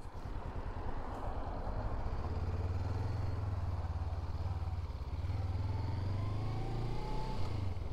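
A Honda CL500 motorcycle engine hums steadily while being ridden, a constant low drone with wind rush and no talking over it.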